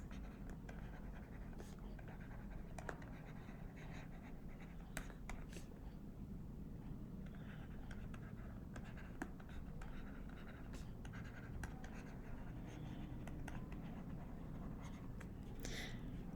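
Pen scratching on paper while working through a maths proof, a faint steady scribble under constant background hiss with a few small ticks.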